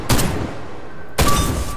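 Two heavy, booming shots from an AY 550 sniper rifle in a video game, one at the start and one about a second later, each loud and close with a short ringing tail.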